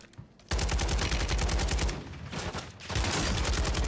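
AK-47 assault rifle in the Warzone video game, loud rapid automatic bursts, a long burst followed by a brief pause and then another sustained burst.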